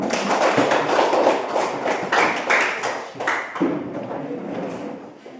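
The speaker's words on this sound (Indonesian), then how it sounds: "Tepuk tangan dia." A group of people clap their hands at a gathering, loud, close, irregular bursts of claps that thin out toward the end, with no talk over them.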